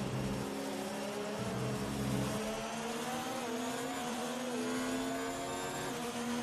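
Race car engine in the F1 2019 video game, a loud steady high-pitched whine at sustained revs with slowly shifting tones and brief gear-change dips, running continuously without speech.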